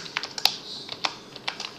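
Light, quick keystrokes on a computer keyboard while code is typed, an uneven run of soft taps with small pauses between them, close and fairly quiet with no talking.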